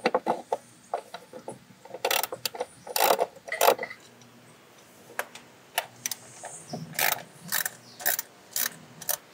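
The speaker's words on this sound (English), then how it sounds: "Gotta set my ratchet to" Ratchet wrench loosening the upper timing belt cover bolts on a Mitsubishi Montero during head gasket work: bursts of rapid close clicking ratchet strokes, loud and repeated, separated by brief pauses with small metallic handling sounds.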